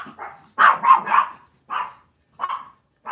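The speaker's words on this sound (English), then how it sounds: "Sorry, those are my dogs." Dogs bark close by in several short bursts: a quick cluster of yaps, then scattered single barks with pauses between.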